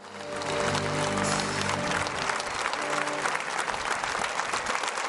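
Concert audience of about 1,500 people applauding at the end of a show, a loud sustained wash of clapping that swells in and continues steadily, with music fading out beneath it at the start.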